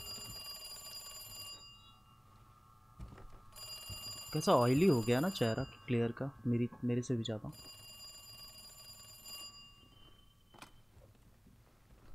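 Old-fashioned telephone ringing in Resident Evil 2, repeated bright bell-like rings in bursts at the start and end, with a person talking over the middle stretch.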